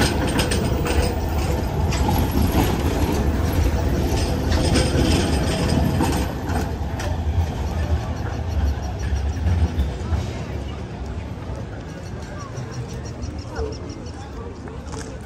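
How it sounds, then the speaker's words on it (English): A train approaches along tracks in Manchester city centre, England, a loud continuous rumble with clanking, mechanical rattles that swell over several seconds and then ease slightly, with some talking underneath. "There's a train coming."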